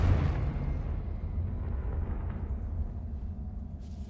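In the Hogwarts Legacy video game, a Confringo spell explosion gives one heavy, low booming blast that rumbles and slowly fades.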